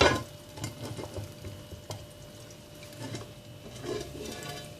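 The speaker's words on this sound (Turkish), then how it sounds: "İki tarafını güzelce hafif pembeleşene kadar kızarttık biberli yumurtamızı" A green pepper omelette fries quietly in a pan, a soft steady sizzle with faint crackles and occasional light clinks.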